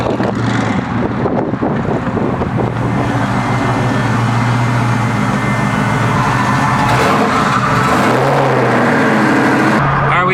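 Hot rod car engine idling loudly and steadily up close, with a low rumble and some wind noise as the car is backed up.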